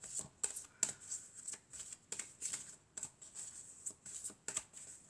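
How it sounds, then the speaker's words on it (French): A deck of playing cards is shuffled in quick repeated riffles and cuts, crisp papery bursts at a steady pace, close and fairly quiet with no talking. "Alors ensuite, on va prendre encore une carte."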